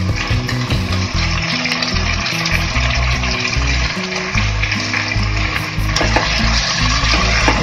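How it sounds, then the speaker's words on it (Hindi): Chicken pieces with salt fry loudly in a pot for white chicken pulao and are stirred, producing a dense, constant sizzle with scraping stir sounds and a low, steady background hum. "चिकन को अच्छे से मिक्स कर लें।"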